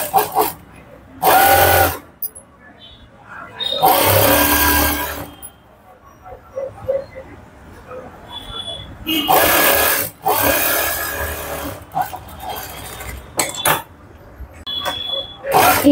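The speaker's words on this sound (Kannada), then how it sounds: "ಈಗ ಎಡ್ಜ್ ಸ್ಟಿಚ್ ಹಾಕೊಳ್ತಾ ಇದ್ದೀನಿ." A sewing machine runs an edge stitch on a fabric strip piece in several separate bursts of fast, steady whirring. Quieter gaps with faint handling noises fall between the bursts.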